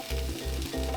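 Onions, peppers and zucchini fry in olive oil with a continuous close sizzle, over a low, steady pulsing hum.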